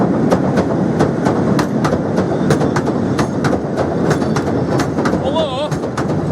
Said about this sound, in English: it actually has a train that runs up and down the pier